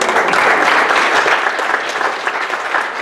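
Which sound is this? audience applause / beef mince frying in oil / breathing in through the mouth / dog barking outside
audience applause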